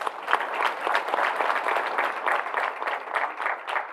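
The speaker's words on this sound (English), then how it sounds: "Let's pause right there for an applause." Audience applause at a business media launch event with a life strategist, dense steady clapping from a sizable crowd, moderately loud and continuous with no talk.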